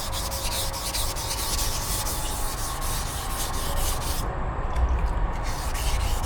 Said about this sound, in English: So the filler primer is kind of rough. And you got to take it down to where it's nice and smooth.